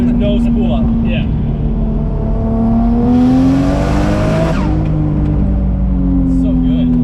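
A turbocharged 1JZ or RB25 drift car engine revs loudly and close by during a dyno day, its droning tone climbing steadily in pitch before dropping back, with a brief hiss at the peak.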